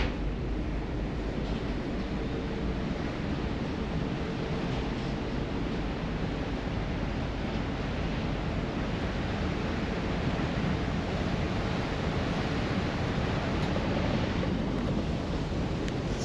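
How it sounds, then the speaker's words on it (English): A steady, continuous wash of open sea waves and wind rushing past a ferry between Lerwick and Aberdeen, unbroken and fairly loud throughout with no voices. "You can hear the waves."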